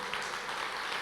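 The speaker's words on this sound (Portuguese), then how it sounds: "Se é para aplaudir, aplauda direito, aplauda a palavra, o Senhor." A church congregation applauding during a sermon, a short dense burst of many hands clapping together, steady and fairly loud throughout.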